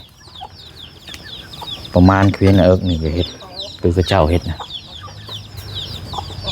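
Chickens cluck and squawk near a backyard chicken coop, with busy rhythmic clucking bursts and chirps running throughout while someone speaks in the foreground over them.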